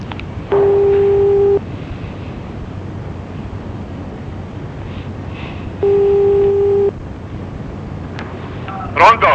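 An Italian telephone line gives a busy signal: two long steady tones about five seconds apart, loud and clean over a low hiss, with a brief noise at the very end.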